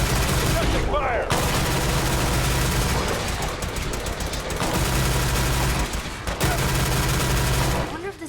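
Rapid gunfire bursts in the video game Fallout 4, played with a gameplay overhaul modpack, dense and loud with booming low rumble throughout, brief pauses near one and six seconds, and a voice speaking over the shooting.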